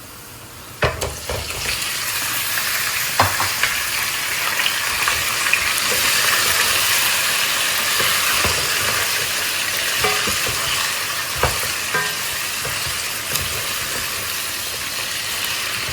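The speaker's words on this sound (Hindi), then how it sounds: "अब हम डाल देंगे इसमें चिकन।" Chicken pieces frying in a pan with browned onions for murgh cholay, a steady loud sizzle with bursts of stirring and scraping throughout, no voices.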